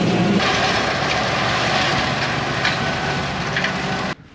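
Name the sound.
big tractor pulling a small hay tedder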